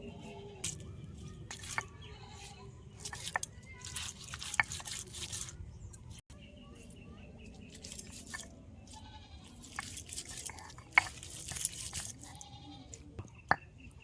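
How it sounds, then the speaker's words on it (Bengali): Shrimp being ground by hand on a traditional Bengali shil grinding stone, close up: irregular wet squishing and scraping strokes with occasional sharp clicks of stone on stone, over a low background hum, with no talking. "আমি কিন্তু শিলে বেটে নিচ্ছি"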